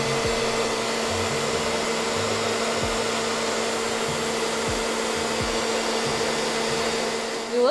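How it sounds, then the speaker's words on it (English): A hair dryer on its cool setting, used to dry eyelashes, runs with a steady close whir and constant hum, with no talking. "it says to blow dry your lashes on cool"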